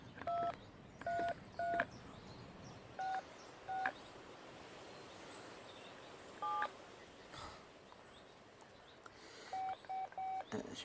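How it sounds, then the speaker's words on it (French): Several short DTMF beeps sound as a home landline number is dialed, keyed in separate clusters with pauses between, clear against low background hiss. "Donc je vais composer le numéro de chez moi"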